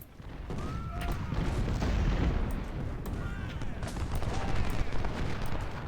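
Artillery guns fire in the Ultimate General: Civil War video game, a dense, continuous barrage of booms and rolling gunfire that swells and stays loud throughout.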